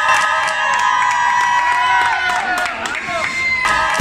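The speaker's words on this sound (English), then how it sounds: "People were cheering." A crowd cheers, whoops and claps while waiting at the Turkish-Iranian border, a dense burst of voices and shouts sustained throughout.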